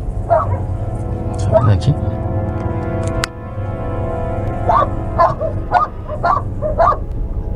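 A female pit bull barks and yips repeatedly in short bursts, first near the start and then in a faster run later, while people talk nearby.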